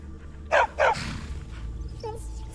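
A war dog in Skyrim barks twice in quick succession, loud and close, followed by a faint short whimper over a steady low ambient hum.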